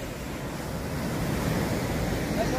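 Indian Ocean surf washes steadily onto Mirissa beach in Sri Lanka, a continuous broadband roar of breaking waves mixed with wind buffeting the microphone, with no voices.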